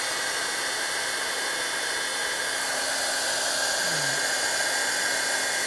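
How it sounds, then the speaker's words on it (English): A heat embossing tool blows hot air in a loud, steady whooshing roar that stays close and constant for the whole stretch with no talking. "Now I need to make a little bit of noise here with the heating tool and heat it up."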